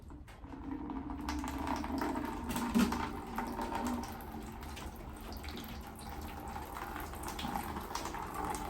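Water poured from a container onto a potted plant grown from cuttings that had been dying and now has roots, a steady close trickle and splash running continuously under quiet room tone, with no talk.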